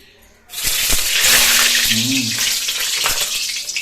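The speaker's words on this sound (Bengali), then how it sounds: "খুবই গরম হয়েছে এখন তেল ছিটে আসছে" Hot oil spits and crackles loudly in a pan while frying for begun bhaja, a dense steady sizzle that starts abruptly and runs throughout, with a brief murmur of voice partway through.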